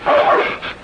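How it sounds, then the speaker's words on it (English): A dog mistaken for a wolf lets out a short, loud bark that trails into a yip, close by and without talk, in a 1948 Western film scene. "That's a dog."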